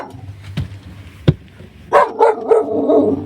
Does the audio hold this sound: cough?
no